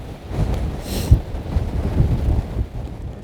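Gusty wind blustering across a Montana elk camp, a steady broadband rush with low buffeting thumps against the microphone and brief louder gusts, no voices.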